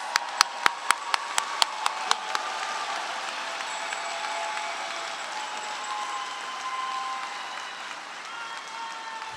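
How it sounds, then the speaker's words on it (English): Applause at a college graduation ceremony for sport management graduates: a few sharp, distinct claps ring out at first, then blend into a steady wash of crowd clapping that continues throughout. "Let's have a big round of applause for all our PRTM Sport Management graduates."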